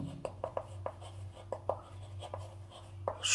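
Pen or chalk strokes writing out the answer to a class 5 arithmetic problem, a series of short scratchy taps and strokes in an irregular rhythm, close and fairly quiet over a low steady hum.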